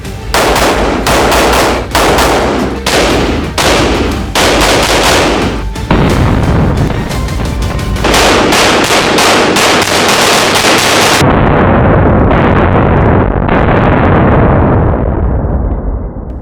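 Rapid 9mm pistol fire from an M&P 2.0 Metal and a Canik TTI Combat at a gun range, loud sharp shots in quick strings and bursts, close and continuous with no talking.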